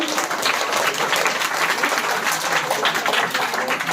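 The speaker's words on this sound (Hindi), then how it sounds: "एक बार जोरदार तालियों से।" Loud, dense audience applause fills a school Teachers' Day celebration, a steady wash of many hands clapping for about four seconds without pause and with no voices over it.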